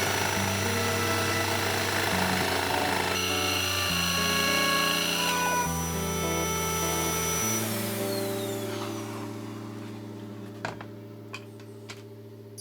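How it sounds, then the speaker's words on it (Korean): A small motor saw cuts a window shape out of a 3mm wood board, whining steadily with shifting pitch before winding down and giving way to a few clicks and taps. "뚫어진 구멍 안에 모토소의 날을 집어넣고 창문을 그린 도안대로 잘라줍니다."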